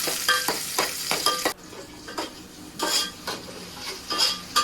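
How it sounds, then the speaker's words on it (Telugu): Onions frying in a pan for a Nellore-style fish curry, with a steady sizzle broken by repeated stirring scrapes and utensil clinks against the pan, close and moderately loud, no talk. "ఆనియన్స్ ఫ్రై అయ్యే వరకు ఉంచుకోవాలి."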